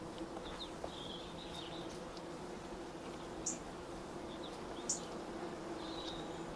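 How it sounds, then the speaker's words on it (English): Honey bees buzzing steadily around an opened hive in a community orchard in July, a continuous close droning swarm with a few brief louder passes near the ear and no talking. "we're getting back into the main part of the colony, so they'll get a bit excited and a few more bees will come out"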